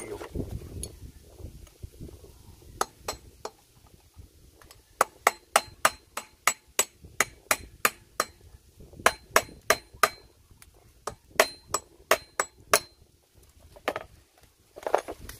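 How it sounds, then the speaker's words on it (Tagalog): A hammer tapping on the clutch of a Keeway Euro 125 motorcycle during repair, with repeated bright metallic strikes in quick bursts, close and loud, separated by short pauses and light handling noise, with no talking. "Gamit tayo ng martilyo."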